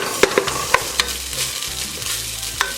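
Rice parching in a pot for Guyanese shine rice gives a steady close crackle and hiss, broken by a few sharp scraping taps of stirring.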